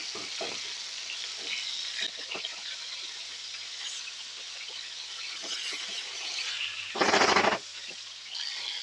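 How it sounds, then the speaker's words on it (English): Steady sizzling of chicken fillets frying in a hot pan, crackling and spitting close by, with a brief louder burst of hissing near the end. "You can hear that sizzle now."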